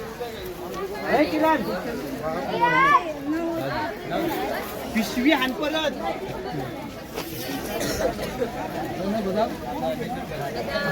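Busy Masjid Bunder market crowd with dense overlapping chatter, children's voices and general hubbub, continuous and fairly loud throughout, with nearby voices talking.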